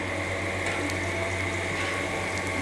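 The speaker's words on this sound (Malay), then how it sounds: "kita masukkan daun kari dengan bawang" Curry leaves and onion hiss and sizzle in hot oil in a pan for Malaysian ayam masak merah, a loud, steady, close frying crackle holding constant throughout with no talking.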